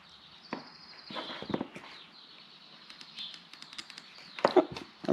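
Fuel injectors on a Toyota 1UZ VVTi V8 engine click in rapid, light ticks, sharp transients scattered over a quiet background with a few louder clustered taps near the end.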